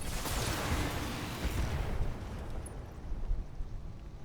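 A destroyed vehicle exploding in Battletech: a loud, rumbling blast right at the start that slowly decays into a long, crackling, low roar.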